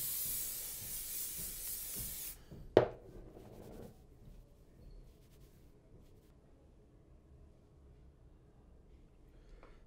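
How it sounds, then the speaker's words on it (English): A short burst of aerosol hairspray onto hair hisses loudly for about two seconds, then cuts off, followed by a sharp click and a faint trailing hiss. "use hairspray, just spray my whole head and mess up my hair"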